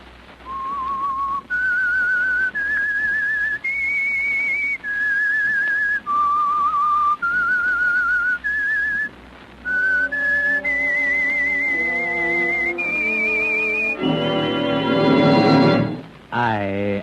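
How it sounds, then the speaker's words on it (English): A lone whistler carries the theme signal of the 1946 Whistler radio program, a slow rising and falling melody; musical accompaniment joins partway through and swells near the end. "That whistle is your signal for the Signal Oil Program"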